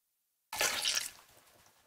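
Toilet water splash in the South Park The Stick of Truth video game: one short, close splash that breaks out of silence, then a softer trickling tail fading away.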